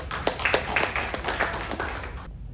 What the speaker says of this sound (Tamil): அவங்களுக்கு நல்ல ஒரு கைத்தட்டல் பலமா